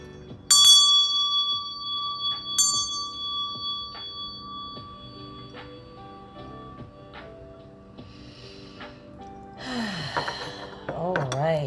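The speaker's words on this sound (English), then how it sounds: "I am going to ring my meditation bell" A meditation bell rings clearly twice early on, each strike leaving a long sustained, slowly fading tone, followed later by a breathy inhale and exhale in a quiet room.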